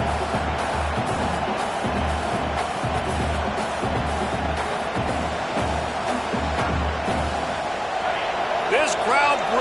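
A stadium crowd roars at an Indiana football game, a sustained loud wall of cheering with sharp thumps and whoops, while an announcer talks over it.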